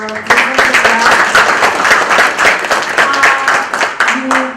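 A workshop audience applauds at the closing ceremony of a World Press Freedom Day event on journalist safety. The clapping is loud and dense, with tonal voices or music running underneath the steady applause.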